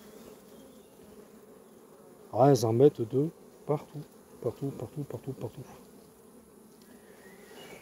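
A steady, dense hum of many honeybees buzzing close by at a hive entrance in hot weather, with someone speaking briefly in French over the drone.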